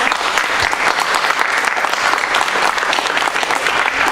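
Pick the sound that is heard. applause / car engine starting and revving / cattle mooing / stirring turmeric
applause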